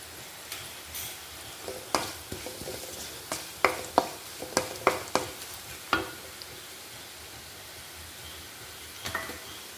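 Ginger and garlic frying in a pan for Kerala-style mango pickle, with a faint steady sizzle broken by scattered sharp clicks and scrapes of stirring, several louder taps clustered in the middle, no voices.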